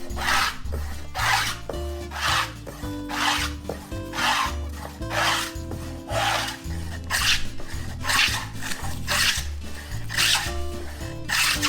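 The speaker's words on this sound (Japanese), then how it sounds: "上刃の長い方の面も取っていきます。" Steady back-and-forth rasping of a hand tool chamfering the long top edge of a wooden board, worked on a plywood sheet while building a queen-size low bed frame; rhythmic strokes about once a second, close and loud, with no talk.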